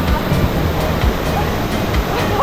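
The main waterfall at the Algar waterfalls in Alicante, Spain, pours as a loud, steady, close rushing roar of water, with no clear voices.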